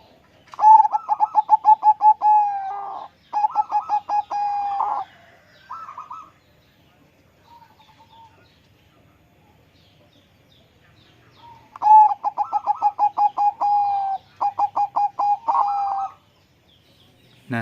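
A caged perkutut (zebra dove) coos close to the recorder in rhythmic rolling phrases, two bursts of rapid pulsed coos with short pauses between, a quiet gap in the middle, then another pair of phrases.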